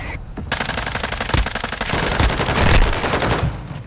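Rapid automatic gunfire in a Call of Duty video game, a loud, sustained burst of closely spaced shots lasting several seconds with no talk over it.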